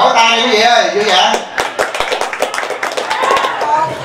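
Wedding guests clap in a short, scattered burst during a family ceremony, the claps close and lively, with voices speaking before and around them.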